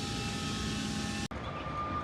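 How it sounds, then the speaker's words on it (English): Oxygen being loaded in the neighbouring shop produces a steady, loud broadband hiss and rumble that cuts off abruptly for an instant partway through, then resumes slightly quieter. "Someone's loading oxygen next door, so that's that sound you hear."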